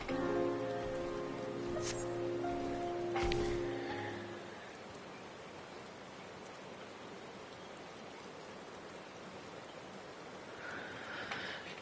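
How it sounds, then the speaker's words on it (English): Steady rain falls in Final Fantasy XIV, a dense even hiss that takes over as a tonal game melody fades out in the first few seconds, then continues alone and unbroken at a moderate level. "Waiting, waiting, waiting in the rain, waiting."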